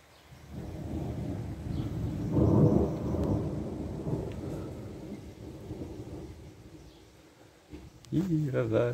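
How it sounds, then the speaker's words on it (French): A moderate summer thunderstorm over Grenoble in the Alps: rolling thunder swells and rumbles low for several seconds, fades into a grumbling tail, then a fresh rumble breaks in near the end, with rain faintly beneath. "les orages ils arrivent comme ça ici, sans crier garde"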